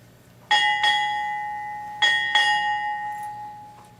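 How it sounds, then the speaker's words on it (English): A ship's bell rings four times in two quick pairs at a naval retirement ceremony, each clear strike ringing out and slowly fading in a quiet space. "Sound 4 bells."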